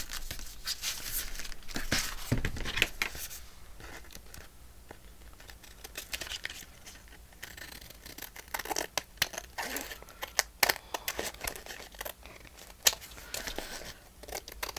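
Scissors snip and trim paper for a handmade watercolor spring envelope journal, giving a steady run of faint, close crinkling and cutting sounds with quiet handling noises throughout.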